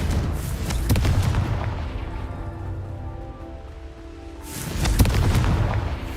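A Confringo blasting spell detonates in Hogwarts Legacy, a loud booming explosion with a sustained rumbling roar that fades, then a second heavy blast swells near the end.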